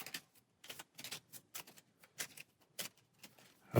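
A deck of cards from the Aeon's End Outcasts card game being shuffled by hand, with quick, soft papery riffle bursts repeating in an uneven rhythm, close and quiet.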